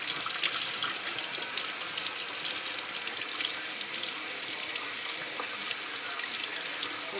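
Tap water runs steadily into a sink while a young puppy is rinsed during a bath, a continuous close splashing hiss with no pauses.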